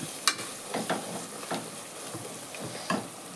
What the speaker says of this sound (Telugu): ఇలా ఇలా అల్లం పచ్చివాసన పోయేంత వరకు వేగాక